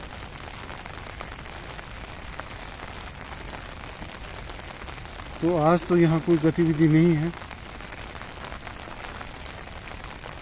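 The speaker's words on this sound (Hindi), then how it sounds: "शायद बारिश के कारण या कोई विवाद है" Heavy monsoon downpour hisses steadily and loudly over an outdoor worksite, a continuous wash of rain with someone speaking briefly in the middle.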